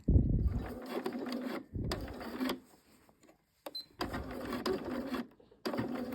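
Sewing machine stitching the tabs of trousers at a 3.5 stitch length, running in several short bursts of whirring stitches separated by brief pauses, close and clear with no talk.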